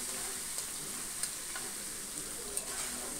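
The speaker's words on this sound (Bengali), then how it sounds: "এবার আদা আর এই কাঁচা লঙ্কাটা একটু টমেটোর সাথে একটু কষিয়ে নিচ্ছি।" Ginger paste, green chili and tomato are sautéed in a pan, giving a soft, steady sizzle with a few light knocks of a stirring spoon.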